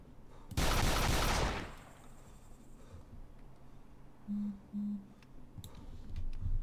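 Gunfire in ArmA 2 DayZ Epoch: a single loud burst of shots up close, followed by quieter distant reports, clicks and a pair of short electronic beeps in a faint background.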